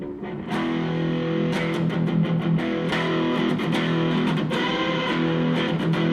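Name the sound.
electric guitar through overdrive pedal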